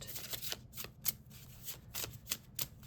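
Tarot cards being shuffled up close, a series of quick riffling bursts and soft slaps in an irregular rhythm.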